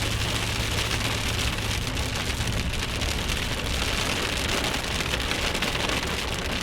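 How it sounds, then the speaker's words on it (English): Heavy rain pours down on a car in an automatic car wash during a storm, a dense, steady roar of drumming water that stays loud and unbroken throughout. "This is what you call an absolute downpour."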